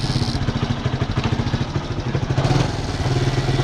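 A Yamaha YTX125 motorcycle engine with a faulty CDI runs unevenly and misfires, giving a close, loud, rough, stuttering idle with irregular pulsing beats and no voices over it.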